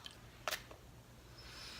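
A short, soft hiss of perfume sprayed once from a bottle of a strawberry-and-vanilla limited-edition scent, quiet and close, with faint rustling after.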